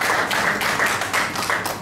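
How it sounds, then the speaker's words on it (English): Audience applause at a conference in Ghana: a dense, steady wash of many hands clapping at once, loud and close throughout with a slightly pulsing rhythm and no talk. "give yourself a round of applause for just being here"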